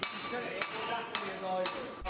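A baby sledge hammer striking hot metal during a blacksmithing forging competition heat, with sharp ringing blows spaced about half a second apart over a steady background din.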